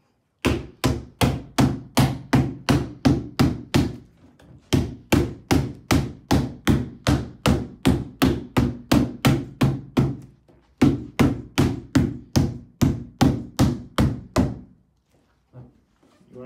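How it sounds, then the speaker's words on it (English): A mallet taps chick brooder parts together during assembly, a long run of regular, evenly spaced hollow thunks, loud and close, falling into several bursts with short pauses between. "Again, you take your mallet."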